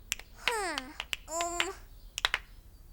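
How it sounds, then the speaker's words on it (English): Finger snaps ring out crisp and close, spaced in a loose beat between bursts of a bright, sliding synthesized tone in a children's music lesson. "I want you to clap your hands with me as I snap my fingers"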